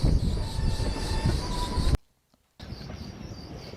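A scenic railway train near Cairns rumbles along the rails with steady low rumble and a faint squeal, cutting out briefly before the running noise resumes.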